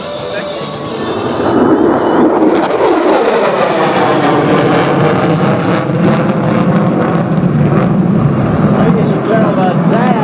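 B-1B Lancer bomber from Dyess Air Force Base climbing with afterburners lit at an airshow, a roaring jet rumble swelling in from quiet and holding loud and steady, with a sweeping tonal shift as it passes.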